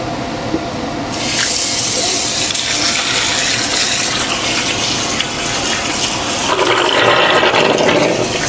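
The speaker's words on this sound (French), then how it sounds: "Je vais pouvoir les rincer là, directement avec le robinet" Water gushes steadily from a kitchen faucet onto potatoes being rinsed for homemade fries, a loud close splashing rush that starts after a second and keeps going, with no one speaking.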